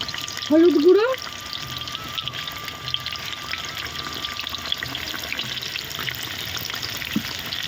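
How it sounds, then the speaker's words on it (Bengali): Potato pieces drop into hot oil with a brief loud splash and sizzle, then settle into a quieter steady frying hiss in the pan. "তেল গরম হয়ে গেছে, এই তেলের মধ্যে এবার আলু কটা ছেড়ে দেব।"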